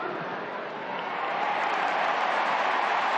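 Football crowd at an AFL match cheering and applauding, a broad steady roar that swells louder after the first second and holds near and full.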